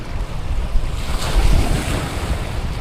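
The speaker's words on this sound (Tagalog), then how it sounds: "Laki ng alon dito banda sa Malaot." Large ocean waves roll and wash continuously near Malaot, loud and close, with gusty wind buffeting the microphone.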